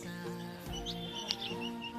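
Small birds chirp and tweet in a quiet natural setting in the Kumaon hills, with brief high calls scattered over a faint, steady background.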